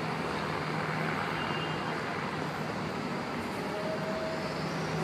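A São Paulo metro Série 500 train sits in the Capão Redondo yard, giving a faint, steady rumble and hum under distant ambient noise.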